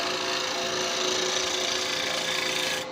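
A wooden kitchen roll holder spinning on a woodturning lathe is cleaned up with a tool, giving a steady close abrasive hiss over the motor's hum for about three seconds before it stops abruptly.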